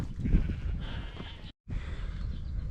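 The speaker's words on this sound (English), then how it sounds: "You can see all the sheep." Sheep bleating in open downland countryside, several calls overlapping at moderate distance against a steady outdoor background, with a brief dropout midway.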